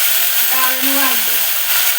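Dal and brinjal go into a hot tempering of cumin, turmeric and curry leaves in a Marathi kitchen, producing a loud, continuous sizzle and hiss, with a brief voice-like tone rising over it partway through.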